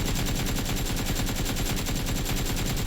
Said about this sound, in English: So I'm going to go ahead and shoot.